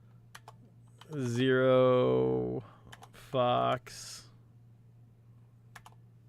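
Scattered clicks of typing on a computer keyboard during a coding lesson: sparse, sharp keystrokes near and off, mixed with a person talking in the middle.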